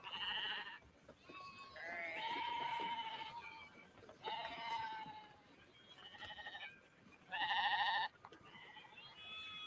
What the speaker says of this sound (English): A Judas goat.